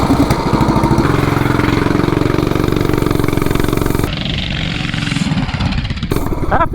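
A 420cc mini bike with an upgraded clutch and gearing accelerates during a 0 to 30 run, a loud, buzzy, close engine roar that drops in pitch and eases partway through.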